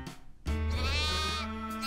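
A cartoon sheep lets out a single long, wavering bleat, loud and close, after a brief quiet moment.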